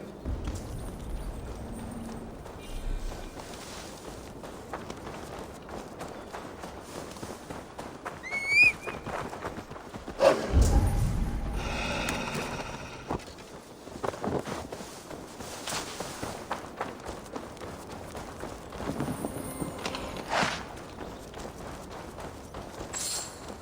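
In the video game Assassin's Creed Valhalla, horse hooves clip-clop at a walking pace throughout, with occasional rustling and brief chimes layered over the steady footfalls.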